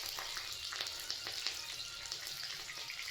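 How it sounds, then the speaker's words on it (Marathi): Cumin seeds and cut green chilli fry in a pan for a kanda poha breakfast as they are stirred, giving a steady close sizzle with light crackles and faint scrape taps and no speech. "व्यवस्थित हलवत राहायचं आहे."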